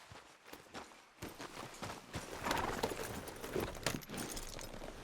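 Horse hooves clip-clop steadily as a rider travels in Red Dead Redemption 2, close and rhythmic footfalls with a snort or whinny mixed in and light tack jingling.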